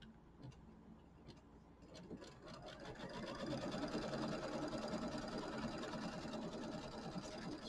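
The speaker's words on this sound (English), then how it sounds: "So we're going to get this stitched out, and then I think it goes around it twice" Embroidery machine stitching a tack-down line on quilt batting, a rapid steady mechanical whir that grows louder partway through and keeps running up close, no talk.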